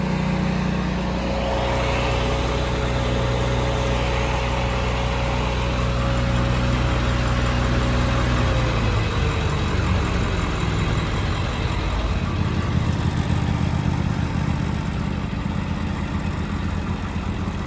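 The welder engine on a 2000 Ford F-450 diesel crane utility service truck runs steadily at idle, a loud continuous drone with a faint tone that drops partway through.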